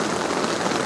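Rain drums steadily on the fabric of a Dhaulagiri Terra Pro 4 tent, a dense, close, even patter with no voices over it.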